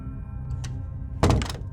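A car door thunks open or shut once in a quiet night-time setting beside a gas pump, a single loud, close knock after a faint earlier tap.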